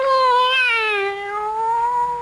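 A single drawn-out cat meow sounds in a 1977 CBS Radio Mystery Theater drama. It is close and clear, wavering gently in pitch for about two seconds with no other sound around it.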